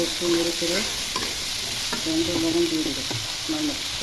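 A spatula stirs and scrapes through vegetables frying in a kadai for a Bengali bhaji with long beans and potatoes, steady close sizzling with rhythmic scraping strokes throughout, no talking.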